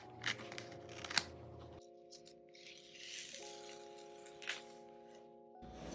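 Scissors or a blade snip through cork board in a few quiet, crisp cuts and rattles, set against a low steady electrical hum.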